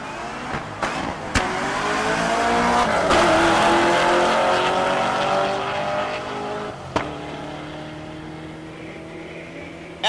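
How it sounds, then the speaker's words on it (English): Corvette and Camaro drag racing down the strip at Tulsa Raceway Park, engines roaring loud and steady as they accelerate, with sharp bangs and a brief tire-squeal edge, no talk over it. "Corvette versus Camaro."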